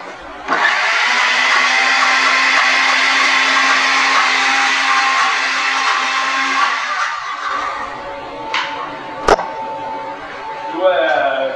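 A kitchen blender whirs steadily while blending pesto, running loud and continuous for about seven seconds, then stops, followed by a few clicks and knocks as it is handled.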